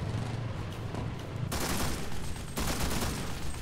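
Machine gun fire in the Enlisted World War II shooter game, sustained loud automatic bursts that cut in sharply, pause for a moment, then pick up again, with no talking.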